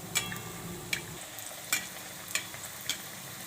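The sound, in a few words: oil poured on top of rava snack frying in pan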